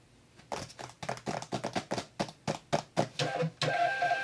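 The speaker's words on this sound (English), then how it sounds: "I'm sitting here staring at the printer, waiting for it to come out, and it's not printing." A label printer runs off a shipping label in a quiet room, with a rapid series of short, rhythmic mechanical bursts that give way to a steadier whirring feed at the end.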